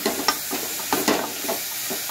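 Dal being stirred in a frying pan for sambar, with a steady soft sizzle and hiss overlaid by several light scraping strokes of the spoon, close and moderately quiet with no talk.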